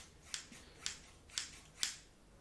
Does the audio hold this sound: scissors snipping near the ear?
yes